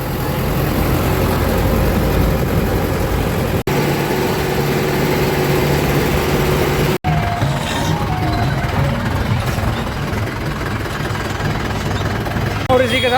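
A tractor engine runs steadily with a loud, continuous rumbling drone throughout, close by, with a brief break partway and rougher texture afterward.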